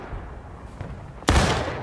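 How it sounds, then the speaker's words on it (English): A musket volley cracks out in War of Rights, a Civil War battlefield: a single loud, sharp report that follows a stretch of faint background noise and then rolls into a lingering rumble. "Let's shoot him."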